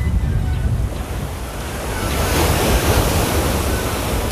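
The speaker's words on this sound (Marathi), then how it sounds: "आता खूप भरती आहे आणि भरतीमुळे खूप मोठ्या लाटा येतात" Large sea waves crash and roll onto Mirya beach at high tide, a steady, loud wash of surf with gusting wind buffeting the microphone. No one speaks.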